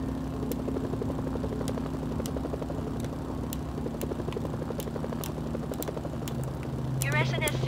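A helicopter in a military video game keeps up a steady rotor thump and engine drone throughout, with a voice talking over it and a brief burst of game effects near the end.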